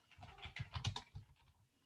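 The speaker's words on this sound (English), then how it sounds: "I can keep typing." Quick bursts of typing on a computer keyboard, a cluster of soft clicks and taps near and faint, with no voices.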